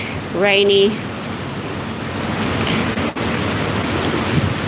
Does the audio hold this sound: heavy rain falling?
yes